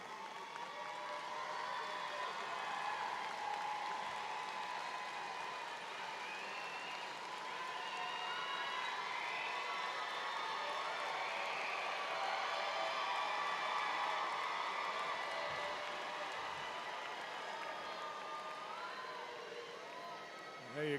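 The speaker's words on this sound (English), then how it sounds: "Give your loved ones another big round of applause for getting you to this point." Commencement ceremony audience giving a long, steady round of applause, dense clapping with some cheering that holds at an even loud level throughout, crowd noise swelling slightly midway.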